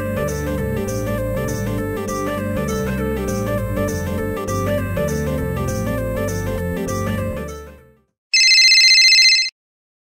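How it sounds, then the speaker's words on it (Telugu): A phone rings with an incoming call: a bright electronic ringtone sounds alone for about a second, loud and close, right after lively music cuts out. "ఇదెందుకు మళ్ళా ఫోన్ చేస్తుంది?"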